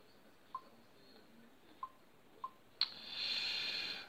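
A Vernee Mars Pro smartphone plays its notification tone: three faint, sparse ticks, then a brighter sustained chime that rings on for over a second, quiet and close.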